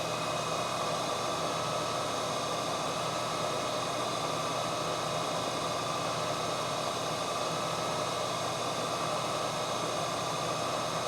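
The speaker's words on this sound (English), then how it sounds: "My spindle bearings are not getting any quieter. Neither is the belt drive on my mill." A milling machine runs steadily with worn, noisy spindle bearings and a belt drive, giving a continuous broadband whir and hum that stays even and moderately loud throughout with no talking.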